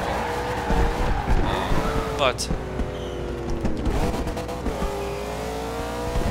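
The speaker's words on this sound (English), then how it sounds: "it's got that American muscle V8 roar to it without even having an upgraded exhaust or camshaft or anything" A stock-exhaust Chevrolet Camaro Z/28 V8 in Forza Horizon 2 roars loudly, revving and shifting with tire squeal as it drifts, while someone talks over the engine throughout.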